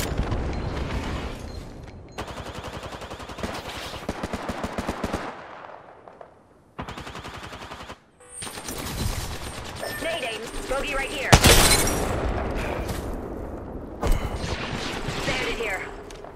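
Gunfire from the video game Apex Legends, with loud rapid automatic bursts and single shots coming in several volleys, broken by short quiet gaps and heavy impacts, over game sounds.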